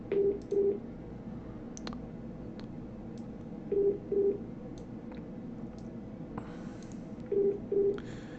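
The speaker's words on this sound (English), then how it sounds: "sorry for the phone call." A telephone rings indoors in three evenly spaced pairs of short electronic trills, moderately loud over faint background noise and occasional small clicks.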